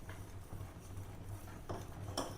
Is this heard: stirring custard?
yes